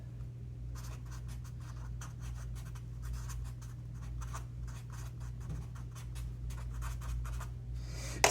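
A pen scratches steadily across a board or paper while arrows are drawn for a calculus lesson on flux across a curve, with quick repeated strokes over a constant low hum and no speech.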